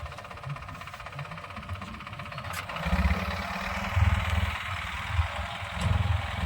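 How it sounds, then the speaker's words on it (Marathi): A low, steady tractor engine rumble drones throughout and swells louder in the second half as it works a sugarcane field nearby, with no talking. "ट्रॅक्टर साह्यानं बगला मारून घेणार"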